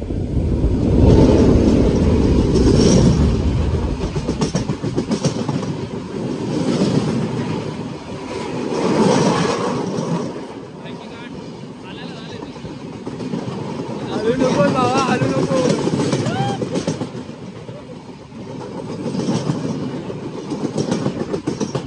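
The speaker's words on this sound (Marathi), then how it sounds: "आता ट्रेन येत आहे" A train runs past near Ranpat waterfall in Ratnagiri, a loud rolling rumble with wheel clatter that swells and fades in waves, mixed with a steady rush of falling water, and some talk in the background.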